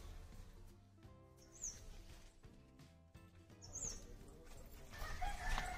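Village chickens gathering around scattered rice, with a few clucks and a rooster crowing over low farmyard background noise, partly masked, ending in a brief rustle of movement.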